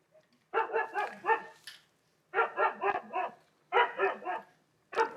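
A dog barks in three quick bursts of several rapid, fairly loud barks, with short silent gaps between them, played back from a recording in a courtroom setting.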